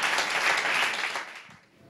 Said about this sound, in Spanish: Den un aplauso al Señor por eso también.